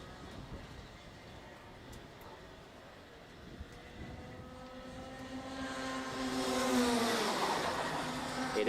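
Rotax Max racing karts at Kiltorcan roar down toward the first corner, engine whine building and rising in pitch as the pack draws nearer and louder, several two-stroke motors overlapping with no talk.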